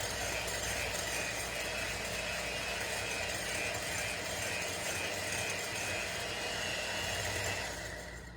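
An electric hand mixer whips egg whites into froth for a soda cracker pie, giving a steady, dense mechanical whir that runs the whole time and trails off briefly at the end.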